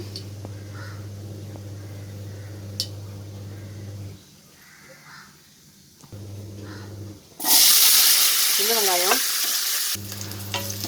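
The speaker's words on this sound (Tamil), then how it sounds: "நல்லெண்ணெய் கடுகு வெந்தயம் போட்டுடலாம் கடுகு வெந்தயம் போட்டாச்சு" Mustard seeds and fenugreek frying in sesame oil for an okra kuzhambu: steady sizzling and crackling interrupted by quiet gaps, then a loud rushing burst of hiss partway through before the frying resumes.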